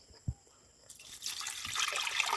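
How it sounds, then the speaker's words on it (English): Water is poured onto filter paper to wash silver chloride residue, a soft rising trickle and splash starting after a faint knock, quiet and close with no talking. "So we pour water here."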